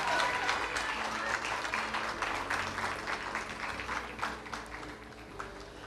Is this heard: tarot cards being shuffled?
no